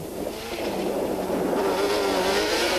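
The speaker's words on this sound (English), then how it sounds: "The Class L quads are sophisticated pieces of machinery and provide for some spectacular racing" Class L racing quads, including Yamaha Banshees, roar past on a loose dirt track in a steady, loud engine drone, with the pitch rising slightly as they accelerate and no voices over it.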